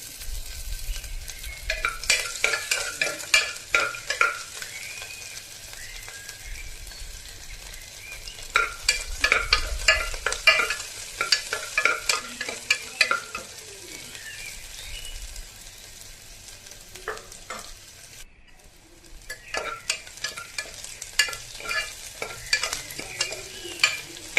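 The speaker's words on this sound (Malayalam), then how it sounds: "പച്ചമുളകൊക്കെ പൊള്ളി വരുന്നുണ്ട്." Green chillies and crushed ginger fry in oil in a pan over a lowered flame, a steady close sizzle broken by repeated bursts of spatula scraping and stirring, with a short pause near the end before the crackling resumes.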